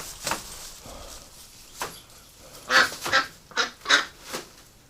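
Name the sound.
duck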